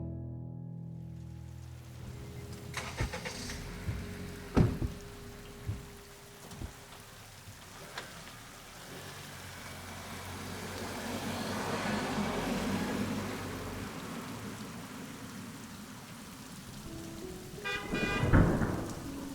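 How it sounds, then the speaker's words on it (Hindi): Heavy rain hisses steadily while a few sharp cracks sound early on, a long rolling rumble builds, and a loud thunderclap breaks near the end. "सावन का मौसम था, इसलिए बारिश काफी तेज हो रही थी।"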